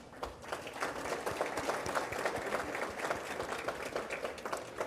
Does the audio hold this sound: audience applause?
yes